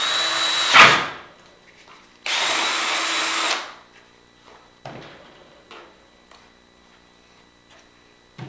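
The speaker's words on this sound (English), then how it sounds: "I've got a 3/8 drill bit here. I'm just going to punch a little hole right through the middle here" A 3/8 drill bit punches a hole through the middle of a part for a homemade flood coolant system, two loud drilling bursts of about half a second and over a second, then quiet clicks and handling taps.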